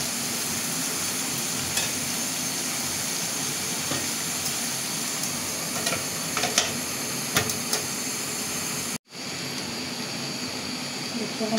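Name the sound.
frying in a pan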